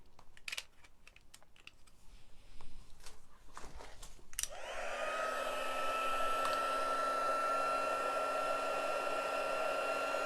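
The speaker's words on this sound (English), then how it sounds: "Just going to heat emboss this." A heat tool switches on partway through, after some light tapping and rustling, and runs as a loud, steady blowing whir with a constant motor whine while a craft piece is heat embossed.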